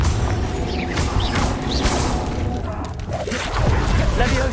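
Confringo fire spell cast in Hogwarts Legacy, a loud continuous rumble of magical blasts and whooshing impacts, mechanical clatter layered in with little pause.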